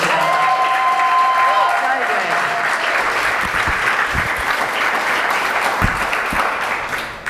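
Audience at a YMCA camp retreat keynote applauding, a sustained roomful of loud clapping that fills the whole stretch and tapers slightly at the end.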